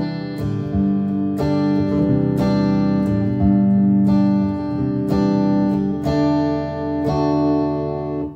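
Electric guitar on a modified Jackson JS22-7 seven-string, played through a DiMarzio Blaze pickup: clean, sustained chords struck about once a second, bright and close, with ringing harmonics and no talking.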